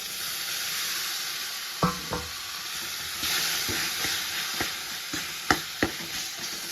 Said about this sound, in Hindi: इसको मिक्स करके भून लेते हैं